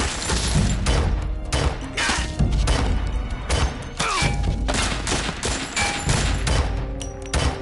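Rapid bursts of loud gunfire in Metal Gear Solid 3, shots cracking in quick succession over a dense, chaotic background of impacts and crashes.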